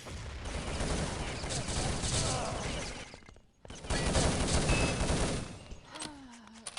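Dense, rapid video game gunfire rattles in a competitive online match, including a headshot, with a brief silent gap midway, then more bursts and a descending tone near the end.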